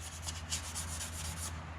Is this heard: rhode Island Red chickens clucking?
no